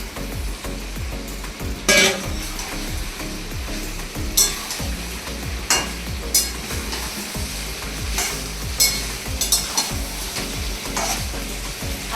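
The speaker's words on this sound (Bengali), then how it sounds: "আলুটা দিয়ে একটু নেড়ে দিলাম।" Potatoes being stirred into a meat curry frying in oil, with a steady sizzle under a quick repeating scrape of the spoon and a few sharper knocks against the pot, no talking.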